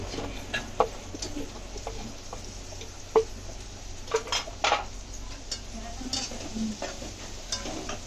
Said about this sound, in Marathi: और थोड़ा मिक्स कर लेते शिमला मिर्ची